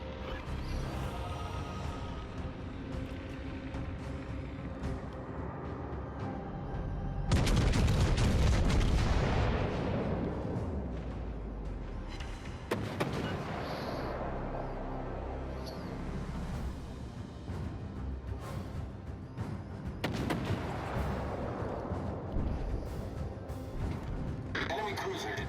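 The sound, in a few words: naval gunfire from enemy Hipper cruiser, World of Warships: Legends video game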